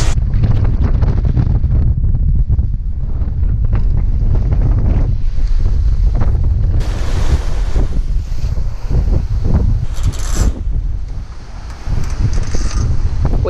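A sailboat charges into port at about 8 knots, with heavy wind buffeting the microphone and waves rushing and slapping against the hull in a constant loud roar.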